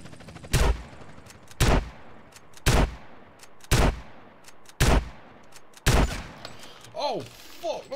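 Gunfire in GTA San Andreas Multiplayer: six loud, evenly spaced single shots about a second apart, each with a short ringing tail, followed by a few fainter chirping sounds at the end.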